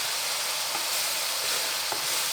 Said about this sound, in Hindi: अब हम दोबारा से इसको मज़ीद 2 से 3 मिनट के लिए भूनेंगे मसाले को